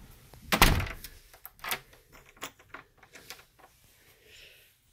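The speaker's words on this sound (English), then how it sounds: "And then, of course, the garage door." A residential garage door closes with one sharp thunk, followed by several softer knocks and rattles fading out in a quiet room.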